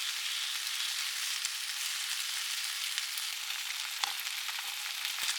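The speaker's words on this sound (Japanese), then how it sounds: "フライパンで焼いていきます。 巻き終わりを下にして並べて、時々転がしながらまんべんなく焼きます。" Rolled-up pieces of food sizzle steadily in a frying pan, a continuous close crackling hiss with no pauses, joined near the end by a brief soft clack as the rolls are turned.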